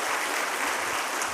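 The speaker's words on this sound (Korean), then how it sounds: "뜨거운 박수로 격려해 주시기 바랍니다." A church congregation applauds during a Sunday worship service, a dense, even wash of clapping from many hands that fills the room briefly at moderate loudness.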